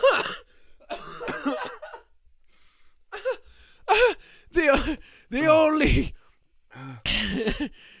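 Repeated bursts of coughing mixed with breathless laughter, close and loud, with short pauses between fits.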